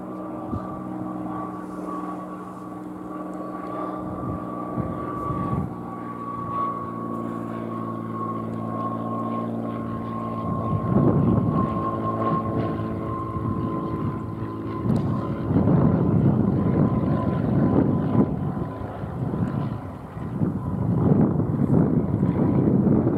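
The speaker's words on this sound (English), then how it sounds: "This is the first plane that's coming into land since that happened." A Piper PA46 light aircraft approaches to land on grass beside a blocked runway, its propeller engine droning steadily and growing louder as it nears, with wind buffeting the microphone.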